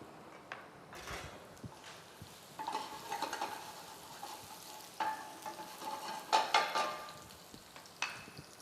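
Shallots and tomatoes fry in a pan for gnocchi alla Partenopea, a soft close sizzle broken by scraping stirs and a few sharp clatters of utensil against the pan.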